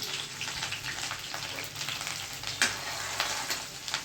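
Green chillies fry in oil over already-popped mustard seeds and cumin, a close, steady crackling sizzle with scattered spitting pops and a brief sharp crack partway through, no voices.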